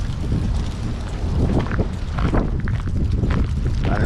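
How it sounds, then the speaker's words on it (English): Strong wind buffets outdoors along a Los Angeles street lined with parked RVs and camper trailers, a loud continuous low rumble and roar across the microphone with a few faint scuffs and no talking. "I don't know if you can hear the wind."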